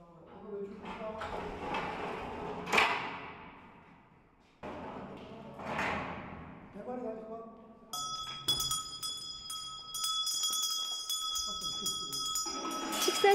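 A bell rung to signal feeding time at an Asiatic black bear enclosure, heard as repeated bright metallic ringing with sustained tones over the second half, following stretches of talk and handling noise.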